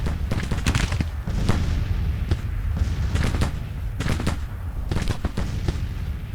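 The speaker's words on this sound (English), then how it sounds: "the Armstrong's down to 24 rounds. They've been firing for quite a while" Armstrong artillery fires in the Grand Tactician: Civil War battle game, with repeated booming shots and distant gunfire cracks scattered over a continuous battlefield rumble.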